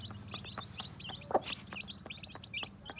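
A hen clucks softly up close while farm-raised chicks cheep rapidly and continuously in high, thin peeps.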